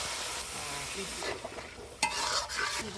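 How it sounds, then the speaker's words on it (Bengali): Duck curry cooks in a pot on a stove with onion, garlic and ginger paste, cumin, coriander, turmeric and chili powder. A steady sizzle runs beneath repeated stirring scrapes, with a sharp clink near the end. "এক কুলে হাঁস রান্না চলতে আছে"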